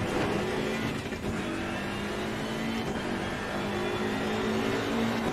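Race car engine in Assetto Corsa Competizione on PC, a steady loud drone of revving and sustained engine tone with slight pitch shifts, continuous throughout without talk.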